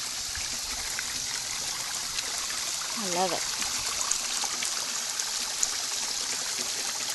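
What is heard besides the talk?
garden pond waterfall flowing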